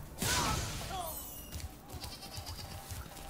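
Sheep in Spyro Reignited Trilogy let out a loud bleat up close, followed by softer bleats and light game sounds in the background.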